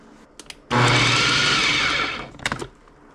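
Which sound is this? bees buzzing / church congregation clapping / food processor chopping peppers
food processor chopping peppers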